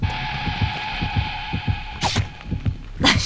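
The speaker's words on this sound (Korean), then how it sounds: "심장소리가 들립니다." In the Dead by Daylight video game, a heartbeat warning thumps steadily about twice a second as the killer nears, over a constant electronic hum, with a couple of brief sharp game noises late in the clip.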